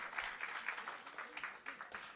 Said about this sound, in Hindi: आपकी तालियों की आवाज़ वहाँ तक पहुँचेगी